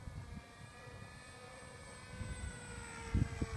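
A large-wingspan RC model ICON A5 amphibious propeller airplane drones past on a low pass with a steady high-pitched engine whine, moderately distant, with some wind buffeting near the end.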